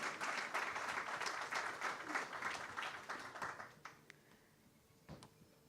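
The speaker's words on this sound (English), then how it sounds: "Can we please have a louder round of applause for that incredible initiative," Audience applause at a CEO round table conference at Aero India 2025 in Bengaluru, greeting a booklet unveiling; dense steady clapping that thins and fades toward the end, leaving a few scattered claps.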